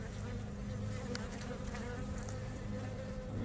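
Honeybees buzz around an opened hive during an inspection, a continuous, even drone from many insects at once, fairly soft and close, with no voices.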